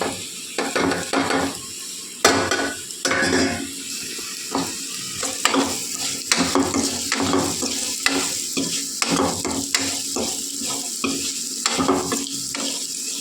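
Chopped ivy gourd (karchikai) stir-fries in a hot pan, with a constant sizzle broken by repeated rhythmic scrapes and clatters of the spatula stirring the pieces, close and clear.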